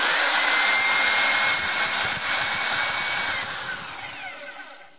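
A KitchenAid Pro 6 stand mixer motor, partly reassembled during a rebuild, runs with a loud steady whine and whir that holds for several seconds, then eases slightly in level toward the end.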